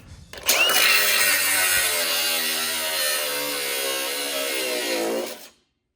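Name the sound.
power tool grinding off bolt heads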